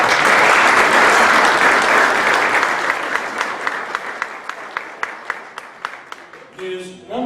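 Audience applause at a BBQ gathering, a dense burst of clapping from a crowd that gradually thins to a few scattered, distinct claps before a voice starts to speak at the end.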